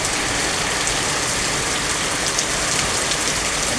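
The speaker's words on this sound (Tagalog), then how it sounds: "Medyo malakas pa rin ang ulan" Heavy typhoon rain pours down in a dense, steady roar of drops hitting surfaces, loud and unbroken throughout.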